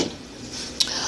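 A lid clanks onto a homemade vegetable soup pot with one short, bright metallic knock near the end, preceded by faint kitchen clatter.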